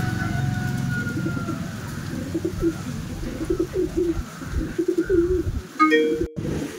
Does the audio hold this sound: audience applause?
no